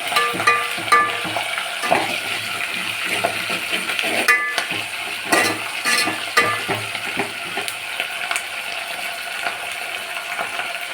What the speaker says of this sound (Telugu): కరివేపాకు వేసేటప్పుడు మాత్రం వీటిని కూడా మంచిగా ఆయిల్లో ఫ్రై అవ్వాలి